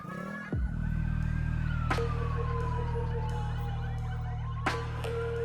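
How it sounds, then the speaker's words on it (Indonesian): An ambulance siren wails in congested traffic, its wavering tone sliding up and down loudly over a deep, constant vehicle engine drone, with brief sharp knocks punctuating it. "Ambulans."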